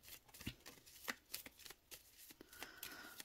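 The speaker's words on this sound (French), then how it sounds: "Allez, on va mélanger et on va piocher une carte." Carabudget game cards being shuffled by hand, a series of short papery riffles and taps close by, with no talk.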